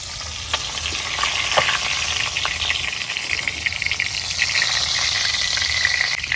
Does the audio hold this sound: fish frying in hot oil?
yes